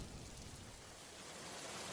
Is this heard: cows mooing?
no